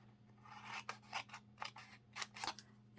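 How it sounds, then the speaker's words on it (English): Scissors cutting paper for a craft tote, a run of short crisp snips in quick irregular bursts, close and quiet over a low background hum, with no voices. "here we're cutting the whole square out, and at the bottom we're going to cut in"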